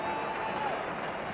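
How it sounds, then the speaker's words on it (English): Faint, distant clapping from a small group of Australian cricket players applauding a Test century, soft and muffled beneath a steady hum of background noise. "Applause from the Australian players."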